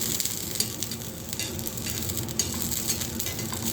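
Turkey berries sauté in a little oil on a flat dosa griddle, a soft, steady sizzle with light scraping and stirring taps up close, no voices.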